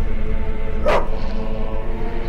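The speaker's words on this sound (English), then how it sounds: "What are those dogs doing?" Dogs in The Witcher video game give a single sharp bark over a steady low ambient hum, with no other voices.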